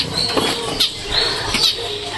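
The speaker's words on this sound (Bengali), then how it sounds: "এখন পাখিগুলো ছাড়বো" Pet birds fluttering out of a cage as they are released, quick bursts of flapping wings close by with a soft coo underneath.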